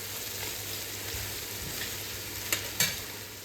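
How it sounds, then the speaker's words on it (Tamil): Onions frying for mutton biryani, a steady close sizzle throughout with a few soft stirring scrapes and two brief clinks near the end, no voices. "இங்கே மட்டன் பிரியாணிக்கு வந்து ஆனியன் வந்து நல்லா ஃப்ரை ஆகணும். ஸோ அது மட்டும் நடுவில் நம்ம வந்து கிளறிக்கலாம்."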